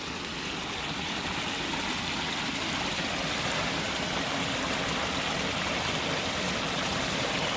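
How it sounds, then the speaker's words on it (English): Steady rushing of falling water, constant and fairly close, with no voices or other sounds. "I'll have a waterfall on my property."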